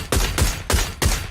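Gunfire in the video game PUBG: four loud, quick shots in an even rhythm, close and sharp with no voices.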